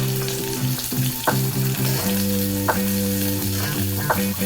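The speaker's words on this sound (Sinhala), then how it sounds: "සුදු ලුණු ටික මේ විදියට ටිකක් බැදෙන්න තියලා ඊළඟට මම දාගන්නවා ලොකුවට කපාගත්ත ඒ ලොකු ලුණු ටික" Garlic and large chopped onions sizzle steadily in hot oil for a Sri Lankan chickpea tempering, a continuous close crackle with occasional brighter spatters and stirring scrapes; no voices.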